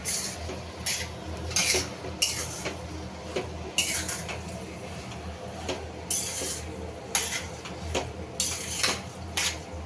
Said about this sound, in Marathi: मिक्स करून घेऊया सगळं छानपैकी।